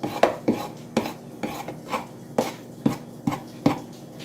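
A spoon stirs flour into cornmeal cake batter in a bowl, striking the side in a steady rhythm of about two clinks per second, close and fairly loud.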